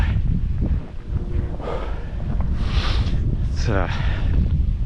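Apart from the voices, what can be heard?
strong wind blowing across a marshy area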